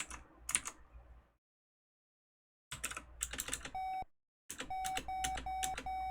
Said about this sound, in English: Oh, we got some beeps.